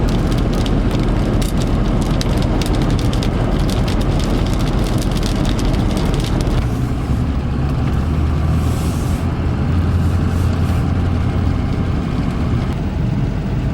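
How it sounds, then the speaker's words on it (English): Steady rain falls outside at a farmhouse under dark clouds, a dense broadband hiss filling the whole stretch, loud and constant with no talk. "It would have to start to rain right when I get back here."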